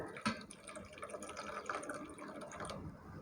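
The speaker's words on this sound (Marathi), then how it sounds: "आपण यात पाणी टाकून ठेवूया" Water splashes and trickles into a dish of freshly cut pumpkin pieces in a home kitchen, a short, quiet pour with dripping and gurgling.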